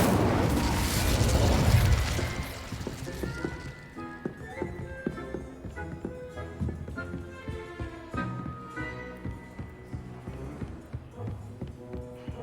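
In the Hogwarts Legacy video game, an Incendio fire spell bursts with a loud whooshing blast that fades over a few seconds, followed by a patter of lighter clattering game sounds.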